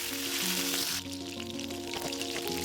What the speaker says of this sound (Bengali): কড়াইয়ে তেল দিয়ে মাছগুলোকে ভেজে নেব